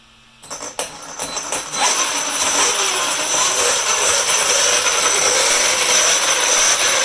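A fifth-scale RC buggy's small gas engine revs steadily at roughly 40% throttle, rising quickly from a brief quiet start into a loud, sustained buzzing drone that holds nearly constant to the end, with no talking.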